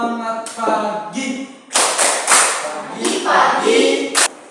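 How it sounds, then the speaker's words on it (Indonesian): Schoolchildren in a classroom perform a rhythmic morning spirit clap, bursts of group clapping in patterned beats alternating with a voice leading the chant. "Sekarang berdiri, kita tepuk semangat pagi dulu."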